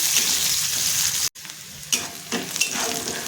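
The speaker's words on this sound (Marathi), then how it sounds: "कढीपत्ता आणि बारीक चिरून घेतलेला कांदा टाकून घ्यायचे आणि छान परतून घ्यायचे." Chopped onion, curry leaves and garlic sizzle loudly in hot oil in a pan while being stirred. The frying hiss runs close and continuous, with a brief cut and then scraping stir sounds.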